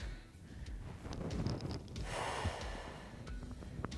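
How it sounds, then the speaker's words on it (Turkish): Deep breathing in and out during a stretching exercise session, slow audible inhales and exhales with soft snort-like rushes of air, close to the microphone and accompanied by light wind noise and rustle. "Derin nefes alıp vermeyi unutmuyoruz."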